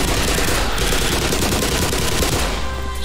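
Sustained automatic rifle fire in the shooter game Black Mesa, a loud, dense burst of rapid shots lasting about three seconds, close and continuous before trailing off at the end.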